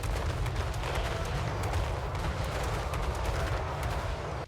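Artillery bombardment in a Warhammer strategy game battle, a dense, continuous rumble of overlapping blasts and crackling gunfire that stays loud and unbroken to the end.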